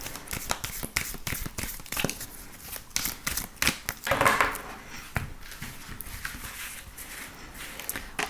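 Tarot cards shuffled and laid out by hand, a close series of quick papery snaps and riffles in irregular bursts, fairly quiet with no talk.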